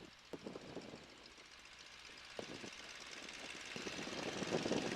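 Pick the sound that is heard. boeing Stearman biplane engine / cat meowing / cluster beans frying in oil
boeing Stearman biplane engine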